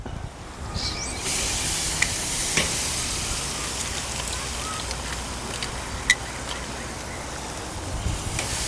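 Shrimp kabobs in sugar-free orange ginger marinade sizzle over grill heat in a dense, steady hiss, broken by a few sharp pops and crackles.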